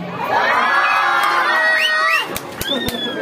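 At a Miss Gay 2022 pageant in Angeles City, Pampanga, a crowd shouts, whoops and cheers loudly, high voices rising together, then a few sharp claps as the roar dips.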